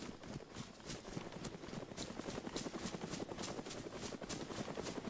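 Helicopter in DayZ, a rapid rhythmic rotor thump chopping steadily and fairly loud, with no voices, heard under dense forest surroundings.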